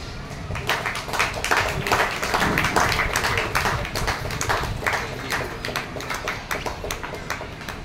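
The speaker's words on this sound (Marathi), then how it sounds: "सगळ्यांनी टाळ्या वाजवा।" An audience at an interview event claps together in a dense, sustained round of applause that keeps going at a fairly even loudness throughout.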